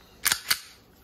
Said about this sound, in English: it's got that clicky click, like you think you got a dead gun, because it goes all the way to that wall